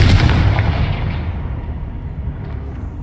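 A loud blasting-spell explosion in Hogwarts Legacy booms close up, a heavy low burst that rolls into a long, fading rumble.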